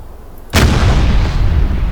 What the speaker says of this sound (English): Those shots are uncomfortably close.